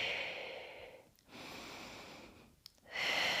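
Slow, steady breathing during a seated Pilates stretch with one leg crossed over the other, heard as long, soft breaths close to the mic, with two brief pauses between the inhales and exhales.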